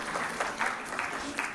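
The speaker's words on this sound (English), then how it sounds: "Big round of applause to your Chancellor." Steady, moderately distant audience applause for the Chancellor at a law school convocation ceremony, continuous clapping filling a large hall.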